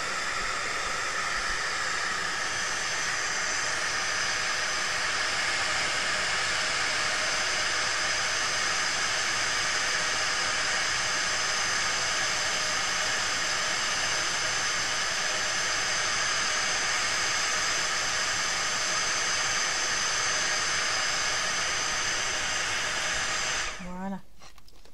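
A heat gun blows steadily on embossing powder, a loud continuous hissing roar that runs without a break for about 24 seconds and then cuts off abruptly, with no talking.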